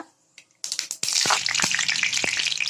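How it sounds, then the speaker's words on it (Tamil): Mustard seeds are added to hot sesame oil for a garlic chutney, bursting into a loud, steady sizzle dotted with sharp crackling pops after a brief quiet moment. "எண்ணெய் நல்லா ஹீட் ஆனோடனே கடுகு சேர்த்து நல்லா பொரிய வச்சுக்கோங்க"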